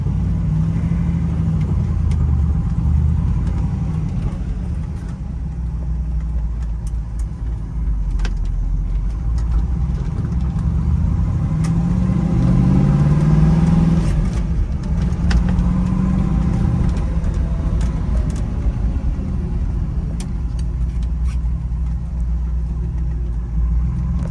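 A 1968 Chevrolet Camaro RS convertible is driven on the road, its engine rumbling steadily and loud throughout, with a slight rise in revs midway.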